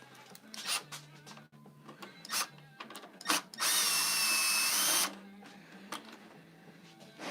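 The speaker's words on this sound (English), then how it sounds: "Need to undo that screw." Power drill undoing a screw on a BMW R1250GSA motorcycle in a workshop, with short clicks and bursts before one sustained whirring run of about a second and a half, close and loud, then more handling clatter.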